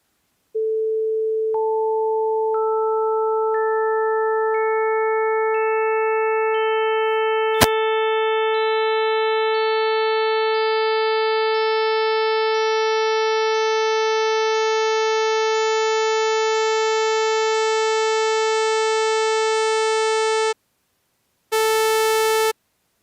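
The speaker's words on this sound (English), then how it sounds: "And this is what a sawtooth wave sounds like." A synthesized sawtooth wave tone builds up as harmonics are added one after another, a steady, loud electronic buzz holding for about twenty seconds, then a brief full burst after a short gap.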